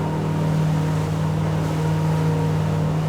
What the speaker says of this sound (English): If we take that up and give it full revs